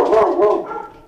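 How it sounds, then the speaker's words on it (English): Puppies barking and yipping close by, a quick run of high, excited barks blending into a whiny tail, loud and clear with no talk over them. "That's my puppies."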